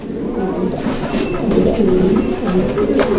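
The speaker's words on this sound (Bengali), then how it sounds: "এখানে চমৎকার আরও এক কবুতর এটা বাগদাদি হুমার কবুতর একটা জোড়া দেখতে পাচ্ছেন" Baghdadi Homer pigeons cooing close by, low soft repeated throaty coos filling the moment with a steady murmuring rhythm.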